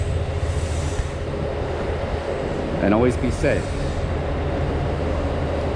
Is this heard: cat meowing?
no